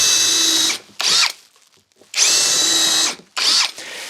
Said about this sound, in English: Now on the 2 rails, I'm going to put pre-drill holes here on the end,